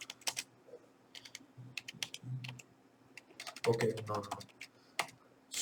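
Keys on a computer keyboard clack in quick, irregular bursts close by, with short pauses between runs while a voice speaks briefly in the middle.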